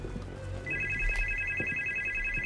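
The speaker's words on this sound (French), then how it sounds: "Le téléphone sonne." A phone ringtone in the horror game Supernormal starts partway through and repeats steadily at moderate loudness over a low ambient game hum, with faint footsteps and thumps underneath.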